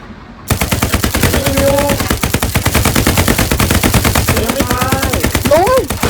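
Gunfire in the World War II shooter game Hell Let Loose: sustained, rapid machine-gun bursts, loud and close, running almost without pause, with a few shouted voices over the shooting.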